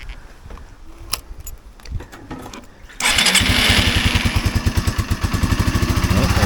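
A cold Yamaha SR125 single-cylinder motorcycle on half choke, with a repaired old carburetor, clicks and rattles faintly, then fires into a loud, close, rapidly pulsing idle that settles into a steady thump.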